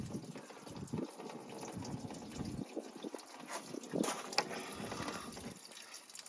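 Coolant gushing and trickling out steadily from a car engine, under its running hum, close by, with brief splashing surges.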